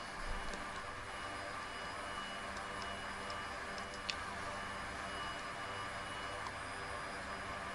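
Blackbird Hercules transport aircraft engines running in a flight simulator set in Papua New Guinea: a faint, steady turboprop drone with a thin high whine, constant throughout, with a few light ticks and clicks.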